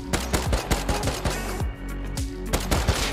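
Rapid bursts of gunfire from the video game Rust, sharp repeated shots in a fast uneven rhythm, loud and close, then a brief lull before more shots resume; no talking.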